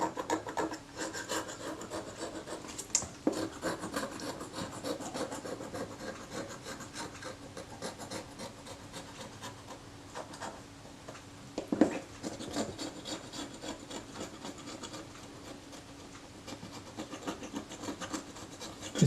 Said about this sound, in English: The back is softer aluminium, so you have to be a bit more cautious about scraping this